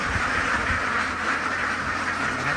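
A flock of CP Super laying ducks quacking together, a dense steady chorus of many birds close by, continuous and fairly loud with no talk over it.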